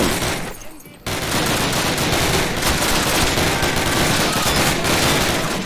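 Automatic gunfire in the Call of Duty video game, a loud, dense, continuous rattle of shots after a brief lull, filling the whole stretch with no audible talk.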